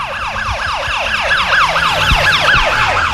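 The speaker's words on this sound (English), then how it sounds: "The ambulance, here it comes." A loud ambulance siren wails in a rapid, repeating up-and-down pattern, close by and steady throughout, over faint traffic rumble.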